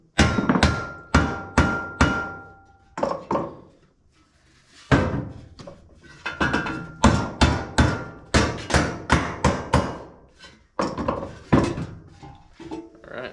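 Repeated hammer blows on a board while fitting a custom fuel filler on a 1967 C20 truck, loud and close, coming in quick bursts of several strikes separated by short pauses.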